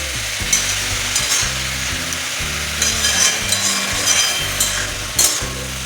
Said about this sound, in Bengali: বাঁধাকপিটা একটু কষিয়ে নেব।